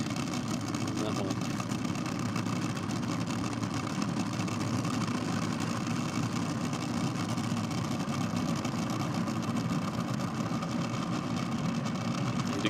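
Nostalgia drag racing car engine revving at high RPM, a steady loud mechanical roar that holds through the whole stretch, with crowd and commentary voices underneath.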